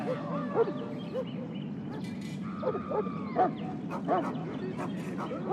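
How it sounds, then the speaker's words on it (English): A Mabari warhound in a video game barks in a series of sharp, close yips and woofs spread across a few seconds, over a low ambient rumble. "You're quite lucky to have your own Mabari warhound, you know."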